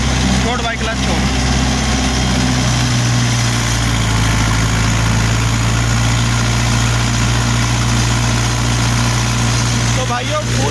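A Mahindra 575 XP Plus tractor engine labours steadily under full load while pulling an 8-foot Shaktiman rotavator, a loud, continuous low drone with a slight dip in revs, and voices talking over it.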